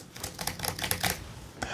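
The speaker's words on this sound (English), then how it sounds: "Here's what the keys sound like." Keys on an Apple Magic Keyboard clack in a quick, light burst of typing, close up and alone for under two seconds.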